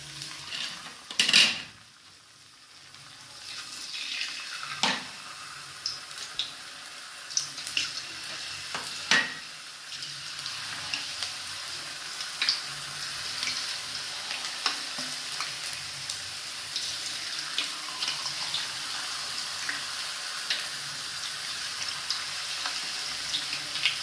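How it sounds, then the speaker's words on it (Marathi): Sliced potato chips deep frying in hot oil over a high flame, a steady bubbling crackle that runs throughout, with a sharp clatter early on and occasional soft knocks of stirring. "क्रिस्पी होईपर्यंत आपण याला तळून घेऊ"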